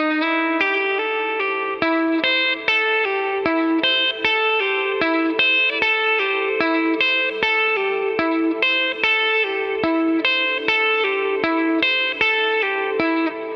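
Electric guitar with effects plays a solo lick slowly, a long run of separate picked notes at a steady unhurried pace, clean and close with no talking.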